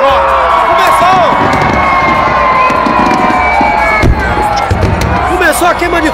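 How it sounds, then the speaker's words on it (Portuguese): Fireworks begin over Barra as a large festive crowd roars with loud, continuous cheering, shouts and whistles, with a few bursts and pops in the mix. Voices are also heard talking in the crowd noise. "Começou a queima de fogos na Barra!"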